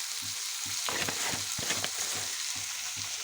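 Food fries steadily in a pan after salt and turmeric are added, a continuous close sizzle with repeated stirring scrapes and utensil knocks throughout.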